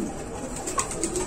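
Pigeons cooing in a pigeon-selling shop in Bangladesh, with soft low repeated coos against a busy close background murmur, steady over a brief moment.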